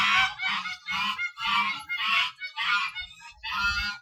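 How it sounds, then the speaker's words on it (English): Geese honk loudly and close by in about seven rapid, harsh bursts, heard in a horse-training yard with no talking over them. "Pardon the geese."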